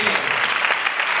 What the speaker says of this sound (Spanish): Un aplauso para Tomás Chaco Pino.